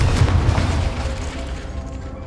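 A Confringo fire spell bursting in Hogwarts Legacy, a deep booming explosion with a rumbling tail that slowly fades over about two seconds, alone without talk.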